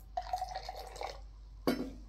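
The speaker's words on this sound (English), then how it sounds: "just a bit of warm water." Warm water poured into a glass of alfalfa concentrated chlorophyll drink, a short liquid splash and trickle lasting about a second, followed by a brief clink or drip, close and fairly quiet.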